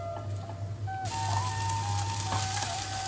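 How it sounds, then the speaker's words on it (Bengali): Soybean chunks coated in flour frying in hot oil, a steady loud sizzle that jumps up sharply about a third of the way in and keeps crackling alone, with a constant low hum underneath. "এদিকে সয়াবিনটা আমাদের ভাজা ভাজা হয়ে গেছে"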